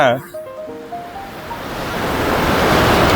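Sea waves wash up on a beach, starting low after a brief voice and building into a loud, rising hiss of surf that swells toward the end, with wind buffeting the microphone.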